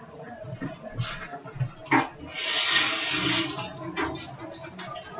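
Tap water runs in a steady hiss as chicken is rinsed in a home kitchen, preceded by clatter and brief kitchen sounds.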